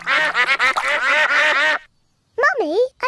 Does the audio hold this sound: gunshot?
no